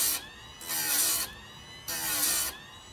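A chainsaw chain is ground on a sharpener in two distinct, loud, whining grinding passes about a second long each, separated by quieter pauses.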